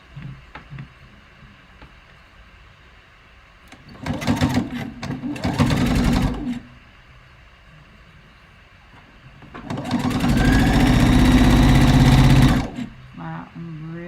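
A sewing machine stitches a robe jacket in two loud close bursts of rapid mechanical whirring, one short and one longer, separated by quiet pauses with faint talk.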